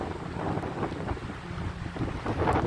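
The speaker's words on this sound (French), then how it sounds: "il y a du vent partout" Strong wind gusts roar and buffet across an exposed tent campsite beside a burning fire, a continuous rushing rumble close to the microphone.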